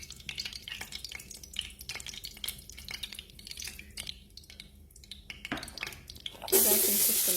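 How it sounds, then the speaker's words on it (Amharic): Dry spices fry in hot oil for chicken mandi, with a soft, crackling sizzle and light scraping that go on steadily. A louder, hissing burst rises near the end. "ደረቅ ቅመሞችን ዘይት እየጠበስኩኝ ነው"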